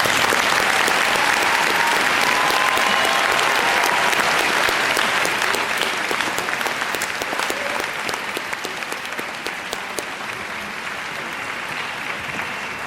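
Sustained applause fills a graduation ceremony hall as a crowd claps steadily, dense and loud at first, then gradually thinning slightly toward the end.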